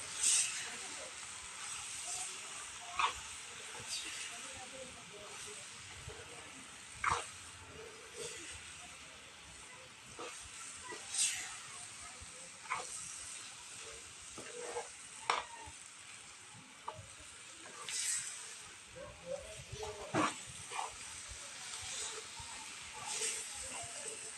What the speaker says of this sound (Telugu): నేను మూడు స్పూన్లు వేసుకున్నానండి కారం ఒకసారి అయితే ఇలా కలుపుకోవాలి